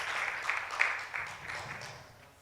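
Audience applause at a summit session, a steady broadband patter of clapping that swells briefly and then gradually thins out and fades toward the end.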